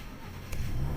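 A Ford Raptor truck's engine starts up about halfway through, a sudden rise into a steady, low, close idle rumble after quiet cabin noise.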